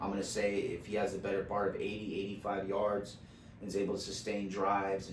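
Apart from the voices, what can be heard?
No everyday noise stands out behind the speech.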